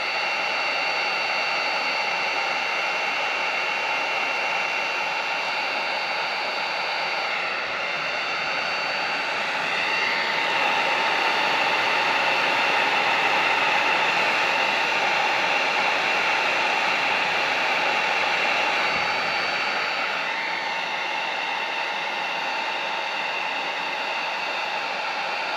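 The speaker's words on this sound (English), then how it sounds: "You take a heat gun, heat that part up, and try to keep it close to the metal." A heat gun blows on a metal ice-fishing fly hook, a loud, steady, close airy whir that swells slightly midway and runs unbroken throughout, with no talking.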